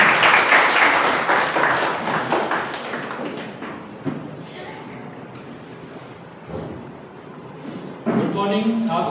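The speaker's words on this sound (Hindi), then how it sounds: "ताली बजा सकते हैं" Audience applause at a Sunday church worship gathering, welcoming a guest speaker, loud and dense at first, then thinning into scattered claps with a few thuds, and briefly swelling again near the end.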